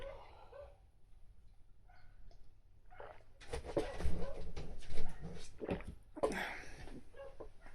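A dog barks and whimpers in a room, the bursts growing louder and busier partway through, heard alone without talk.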